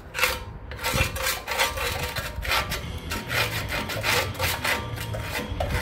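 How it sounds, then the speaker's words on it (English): Scraping rust and grime off the rear brake and suspension parts of a 2000 Ford Excursion truck, a steady run of rough rasping strokes close up, repeated without talk. "So I'm just going to scrape some of this stuff off of there."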